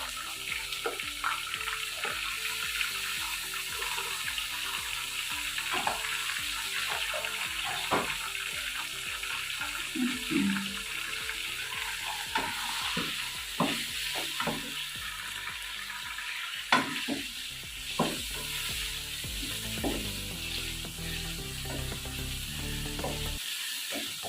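Chicken and chopped tomatoes go into lightly browned onions for a chicken white pulao, setting off a steady sizzle. Scraping stirs come through close up, with no voices.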